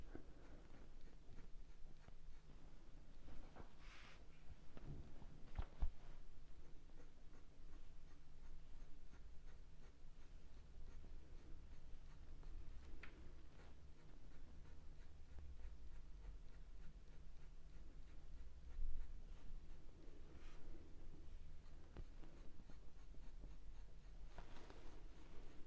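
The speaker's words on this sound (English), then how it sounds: "so I can do longer pencil marks" Graphite pencil strokes sweep across paper while shading long squirrel fur in a drawing, a steady soft scratchy scraping that runs throughout at close range, with a few louder taps and rustles and no talk.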